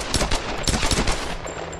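Rapid automatic gunfire in the Tomb Raider game, a loud, close, continuous burst of shots that tails off into a ringing tone near the end, with no talk.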